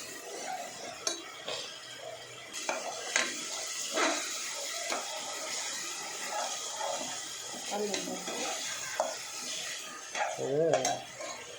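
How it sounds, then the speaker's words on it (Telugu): Ginger garlic paste sizzles steadily in a hot pan while a spoon scrapes and stirs it in irregular strokes, a continuous frying hiss underneath. "తర్వాత అల్లం వెల్లుల్లి పేస్ట్ వేసుకున్నామండి."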